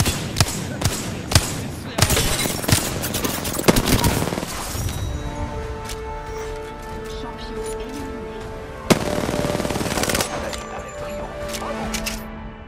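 Rapid gunfire from Apex Legends, dense popping shots for the first several seconds, then a single loud crack and scattered bursts over game music and effects, loud and close.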